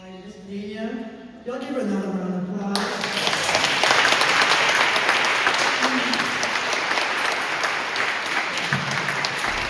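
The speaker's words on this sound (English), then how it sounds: "Y'all give her another round of applause." Audience at a history talk about the Penn Center and Gullah Geechee people bursts into loud, sustained applause after a brief spoken moment, the dense clapping filling the room steadily to the end.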